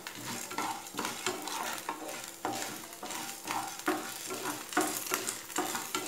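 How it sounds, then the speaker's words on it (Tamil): Urad dal frying in a pan with popped mustard seeds for coconut rice, stirred steadily: a continuous close sizzle broken by repeated scraping strokes of a spoon against the pan, with no voices. "உளுந்து ஆட் பண்ணி கிளறி விடுங்க"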